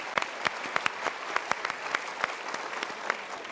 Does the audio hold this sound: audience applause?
yes